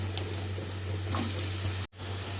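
Ridge gourd frying in hot oil in a pan, a steady close sizzle with a hissy wash throughout, briefly cut out near the end before resuming.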